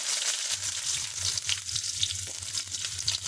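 Onion with mustard, cumin and fenugreek frying in oil for a bottle gourd tamarind curry, a close, even sizzle with a soft low hum throughout.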